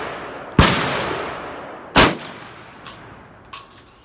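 Shotgun blasts from a Remington 1100 with a 30-inch full-choke barrel, firing a Dixie tri-ball 60 caliber shell outdoors: two sharp, loud reports about a second and a half apart, each trailing off, followed by fainter distant echoes.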